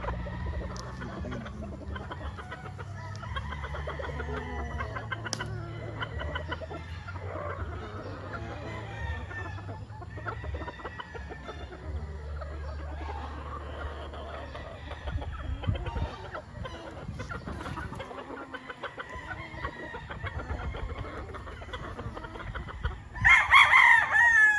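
A trio of White Kelso chickens, two hens and a rooster, cluck softly and steadily over a low background hum, with a louder crow bursting out near the end.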